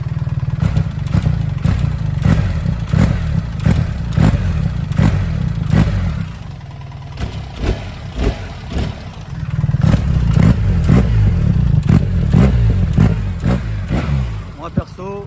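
The stock exhaust of a BMW R 1300 GS Adventure motorcycle idles with a steady loud pulsing throb and brief revs, close by, with people talking over it.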